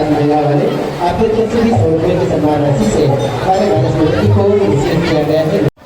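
A crowd at a Guru Purnima fair at an ashram in Chhattisgarh, a close, loud babble of many overlapping voices and chatter that runs continuously before cutting off abruptly.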